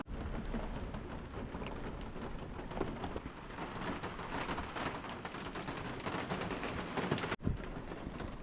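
Rain pours steadily on Salt Spring Island, a continuous dense hiss of drops with faint low rumbling beneath, unbroken until a brief dip near the end.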